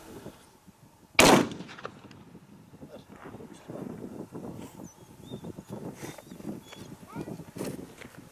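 A single sharp rifle gunshot cracks out while hunting guns are sighted in on a snowy Kyrgyzstan mountain hunt for Mid Asian ibex, followed by low wind and distant murmuring voices.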